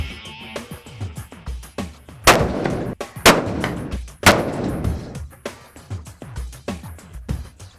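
A Savage Model 11 rifle in 6.5 Creedmoor fired during long range hunter training, three loud sharp shots about a second apart, each with a rolling outdoor echo, amid smaller clicks and handling noises.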